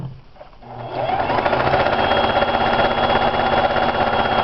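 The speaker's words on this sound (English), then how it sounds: "so it'll sew forwards and backwards, but this one I actually will sew sideways." A Singer sewing machine sewing sideways starts after a brief quiet moment and settles into a loud, steady, rapid mechanical chatter of needle strokes, close up and running continuously without talk.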